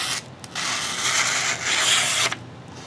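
Cold Steel Talwar blade slicing through paper, producing close scraping, rasping swipes in a few bursts with brief pauses between, fairly loud and without talk.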